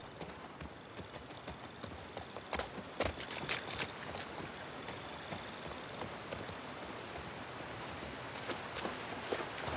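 Horse hooves clip-clop steadily on ground in The Last of Us Part II, two riders sharing one horse, with rain and light ambient noise around the repeated fairly close hoof strikes.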